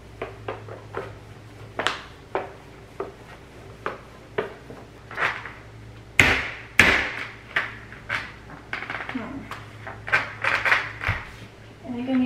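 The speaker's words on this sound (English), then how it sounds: "To hammer this on." A lid is hammered onto a bulk food storage bucket set on the floor: a steady series of sharp knocks about every half second, with a few harder, louder blows near the middle, all over a low background hum.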